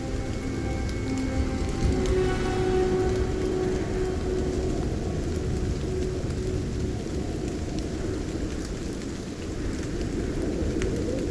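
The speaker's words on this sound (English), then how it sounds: "we're going to start by changing the weather to something like lightning storm" A nighttime lightning storm in the fantasy game Sword Coast Legends: heavy rain pours in a loud, steady hiss for the whole stretch, with low rumbling underneath.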